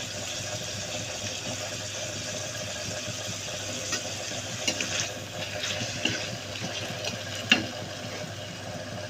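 Chicken frying in a pan with ginger, garlic and onion paste, a soft steady sizzle with occasional stirring clicks and scrapes, moderately close and fairly quiet throughout.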